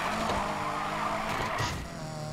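Car engine revving and tires skidding in the racing video game Need For Speed Payback, a steady loud roar with a brief squeal near the middle, no talk over it.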